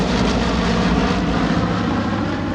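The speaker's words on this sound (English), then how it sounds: "the airplane that just flew by" A P-51 Mustang propeller fighter roars past close and loud, a steady, dense engine drone filling the whole stretch without any voices.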